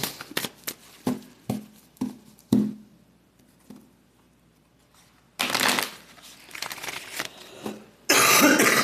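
Several sharp coughs in a row, close and loud, followed by a pause and then bursts of rustling and shuffling noise.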